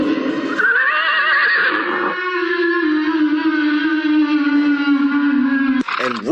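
A horse gives a loud, close whinny that rises, then holds as a long wavering neigh for several seconds before cutting off, with no other sounds around it.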